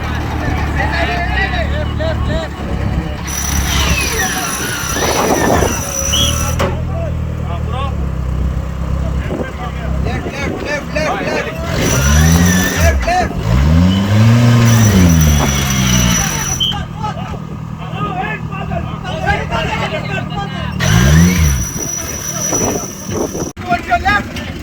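Engine of a Goan 4x4 off-road vehicle competing in the 2023 Rainforest Challenge in Goa, revving and labouring over rough terrain with loud surging and falling pitch, under shouting and talk from nearby spectators.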